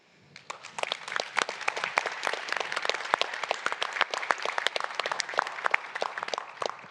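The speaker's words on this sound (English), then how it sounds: "please give our entire panel a round of applause" Applause for a panel at a conference builds quickly from a few claps into steady, fairly close clapping from an audience that continues evenly to the end.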